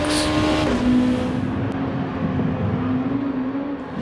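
A Honda NSX road car in the Gran Turismo 7 racing game holds a steady high engine note at speed, a loud continuous drone with a slight pitch dip midway and no talk.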